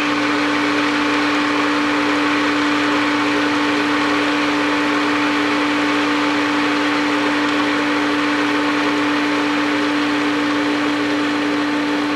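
A pool pump and its motorized valve actuator hum together in a steady, loud mechanical drone with a constant pitched whine. The sound stays even throughout, with no voices.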